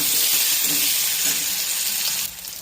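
Sliced onions hit hot oil in a frying pan already holding fried potato, dried red chillies and black cumin, giving a loud continuous sizzle that drops noticeably near the end.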